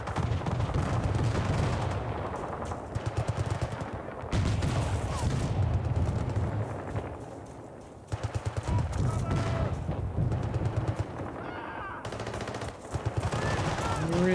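Sustained gunfire at troops in the Battlefield 6 multiplayer video game: rapid automatic bursts and repeated shots in dense volleys, with short pauses between them, loud and close.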